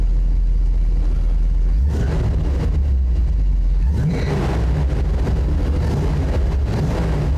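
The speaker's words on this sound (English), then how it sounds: "Man, I just love the sound of that engine." A 1970 Dodge Challenger 340 idles with a deep, loud rumble, then revs up and settles into a throaty, rough growl, with wind buffeting the microphone.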